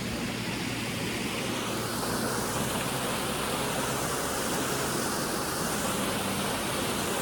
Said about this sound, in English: Ooh, nice little waterfall here.